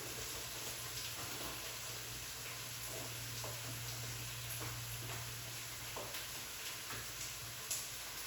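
Sliced white mushrooms sizzle in a hot pan while being stirred, a steady quiet crackle and hiss with occasional scraping clicks, heard alone without talk.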